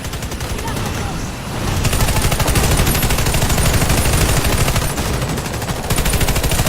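Rapid automatic gunfire from a multiplayer shooter game rattles almost without pause, loud and close, with brief shifts in intensity and a voice faintly underneath.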